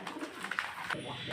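A pet flying pigeon coos close by, a soft throaty burbling call with a few short rolling notes in quick succession.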